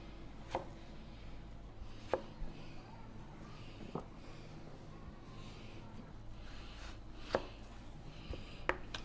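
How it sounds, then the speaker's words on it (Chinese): A knife chops winter melon into thick slices on a board in a kitchen, a few sparse, faint thuds spaced seconds apart over a low background hum. "然后把冬瓜切成这种厚片"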